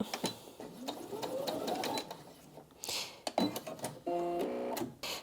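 A Brother Disney Innov-is M380D sewing and embroidery machine stitches at full speed. Its rapid close mechanical whir rises in pitch, then cuts off, and a few beeping tones follow.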